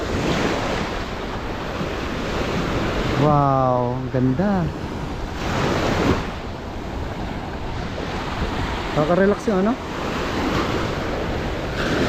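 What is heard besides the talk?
ocean waves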